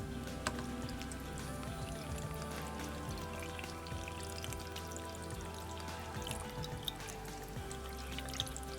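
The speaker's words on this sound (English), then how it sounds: "Gently pour in some water." Water gently poured into a pot packed with stuffed grape leaves for dolma, a soft steady trickle with light dripping and splashing, quiet and close, with no talking.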